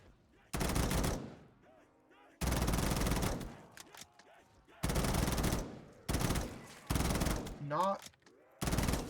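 An M4 rifle in the video game Black Ops 3 Zombies fires in five or six loud sustained automatic bursts, each a second or so long, separated by short quiet gaps, close and dominant.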